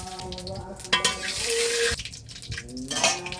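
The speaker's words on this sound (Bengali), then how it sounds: "ফোড়নে দিচ্ছি শুকনো মরিচ তেজপাতা তারপরে দিয়ে দিচ্ছি জিরে" Dried red chillies, bay leaves and cumin seeds hit hot tempering oil for a vegetable dal with jackfruit, giving a loud, close crackling sizzle broken by stirring scrapes and a few sharp utensil clinks.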